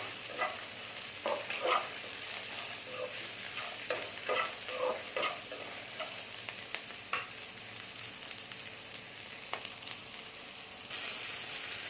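Pepper, cumin and whole spices frying with onion, ginger and garlic in a pan for Mughlai chicken, a continuous close sizzle broken by frequent spoon scrapes and light taps, steady throughout with no voices.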